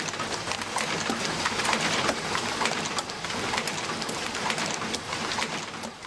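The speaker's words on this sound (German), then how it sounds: "Auch den Bügel bekommt er wie alle anderen von der Bügelverschluss-Drahtbiegemaschine verpasst." Industrial wire-bending machine forming swing-top bottle clasps, up to 90 per minute, runs as a dense, fast mechanical clatter of rapid metallic clicks and whirring, steady and loud throughout with no talk.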